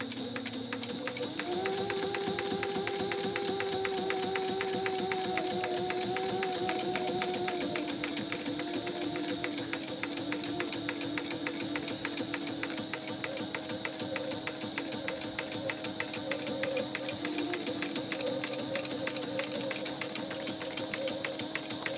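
A sewing machine top stitches a Firefly Tote bag in a steady, fast mechanical whir that runs without a break, its pitch shifting slightly as the speed changes.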